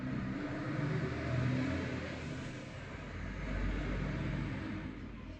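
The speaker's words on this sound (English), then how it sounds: "Sorry, there was a truck passing by." A truck passes by outside, a muffled engine rumble that swells, eases and swells again, heard through a room with no talking.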